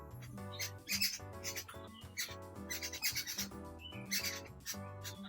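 Darle birds squawk repeatedly while feeding on scattered rice alongside chickens in a coastal Karnataka village yard, the harsh calls coming in loud, overlapping bursts.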